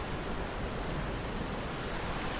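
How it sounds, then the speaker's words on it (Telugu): Gandahati waterfall pours in a steady, dense broadband rush of falling water, loud and continuous throughout with no breaks and no voices. "చూశారు కదా వాటర్ ఫాల్స్ ఎంత అద్భుతంగా ఉందంటే అంత అద్భుతంగా ఉంది వాటర్ ఫాల్స్"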